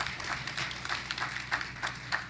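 Conference audience at a legislative day event giving brief scattered clapping, quiet and somewhat distant, a handful of claps spread over a couple of seconds.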